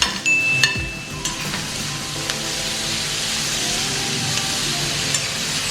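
Tomatoes go into a pan of frying onions for mutter paneer, setting off a steady sizzle that follows a few clinks of a utensil on the pan at the start, with no one talking.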